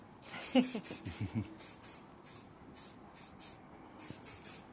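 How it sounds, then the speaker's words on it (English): Hairspray misted over loose, textured holiday hair in a Delray Beach, Florida salon, a string of quick rhythmic hissing bursts close by, with brief faint talk near the start. "More hairspray."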